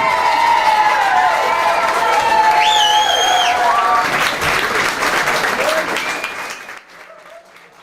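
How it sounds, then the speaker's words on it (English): An indoor audience at a town event claps loudly and steadily, dense applause with a few cheers and whoops rising through the middle before it tapers off near the end. "So once more we thank and applaud for Art Burnley."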